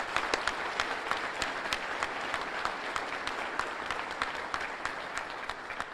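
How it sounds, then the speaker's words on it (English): A governor's State of the State address audience in Monroe, Louisiana breaks into sustained, even applause from a large crowd, filling the room throughout. "Please join me in a round of applause."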